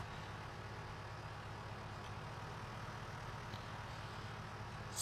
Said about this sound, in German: Ist ein cooler Trecker. Der klingt auch so gut.